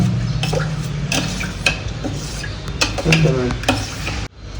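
A spoon stirs bel (wood apple) sharbat sweetened with jaggery in a vessel, making loud, close, repeated scraping and clinking strokes against the sides, with a wetter swirl midway and a sudden stop near the end, no voices.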